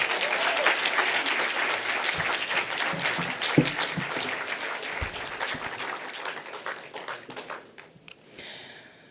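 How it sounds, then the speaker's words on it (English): Audience applause following a lecture at the launch of a 4IR research chair, dense and sustained clapping from a sizeable crowd that gradually thins and fades toward the end. "Let's just give him another round of applause, please"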